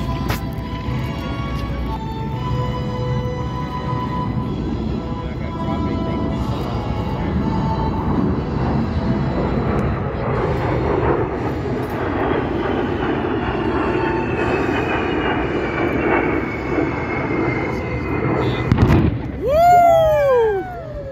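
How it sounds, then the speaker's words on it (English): B-52 bomber making a low pyrotechnic pass at a Barksdale AFB airshow: a sustained loud jet roar with music playing over it, then a sharp explosive boom and a chirping whistle-like sound at the end. "The iconic B-52 doing its thing."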